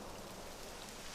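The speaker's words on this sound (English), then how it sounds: "It would have to go and start raining, wouldn't it?" Steady rain falls in the video game Dragon Quest XI: Echoes of an Elusive Age, a faint, even hiss of drops with no breaks, heard alone.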